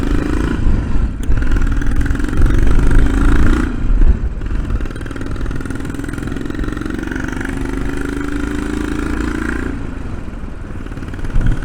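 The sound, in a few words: 1991 Royal Enfield Bullet motorcycle engine running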